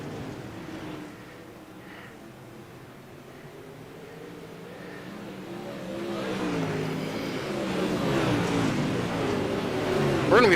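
Dirt track race cars roaring around an oval in a Fosters Custom Rods DirtKars event, engines revving and swelling louder as the pack closes in, a continuous rising drone of several cars near and far.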